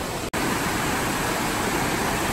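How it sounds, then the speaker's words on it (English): Upper Englishman River Falls in a narrow canyon in British Columbia, a loud steady roar of falling water filling the whole clip without pause, nearby and unbroken, with no voices. "I'm at Upper Englishman Falls."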